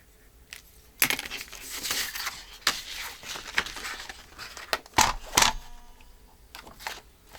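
Paper being cut by hand for a decorated journal page, heard as scattered close snips and crisp rustles with sharp clicks, loud and irregular, without speech.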